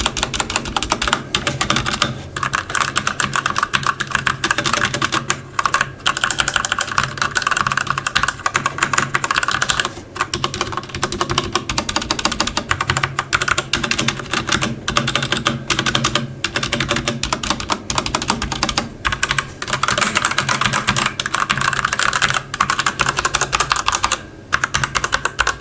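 Rapid, continuous clatter of typing on a 1STPLAYER Firerose MK3 mechanical keyboard with Outemu Red switches, close and loud with dense keystrokes and brief pauses throughout.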